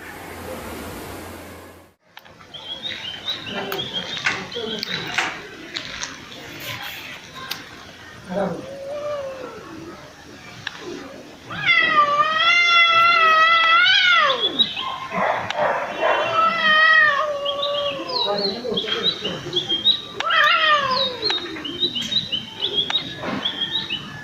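A cat meows several times among scattered animal noises and a fairly loud, busy background, with the calls standing out clearly in the second half of the stretch.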